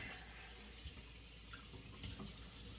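Bacon being rinsed under a running kitchen tap, a steady hiss of flowing water into a sink that grows slightly brighter near the end, with no voices.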